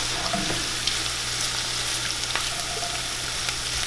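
Shallots frying in a pan, a steady, even sizzle with a low hum underneath and occasional light crackles, heard alone and close.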